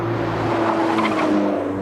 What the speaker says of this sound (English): tire squeal and understeer